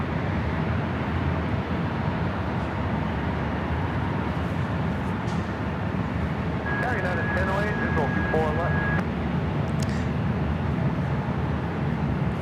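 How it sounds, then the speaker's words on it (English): SkyWest Airlines Embraer E-175LR jet airliner at LAX, heard as a steady distant jet engine roar under someone talking. "It's Alaska SkyWest Flight 3414, operated by SkyWest Airlines, heading to Santa Rosa, California. This E-175LR."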